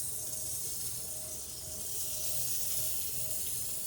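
Butter and a steak sizzle in a pan while cooking on a truck, a steady broadband hiss that stays even and close throughout.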